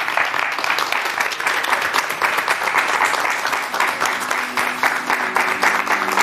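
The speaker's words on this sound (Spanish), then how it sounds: "Un aplauso muy grande para Juan Ramón Barrios y Amador Fernández." A television studio audience applauds guests, loud, sustained clapping filling the whole span with a faint crowd murmur beneath.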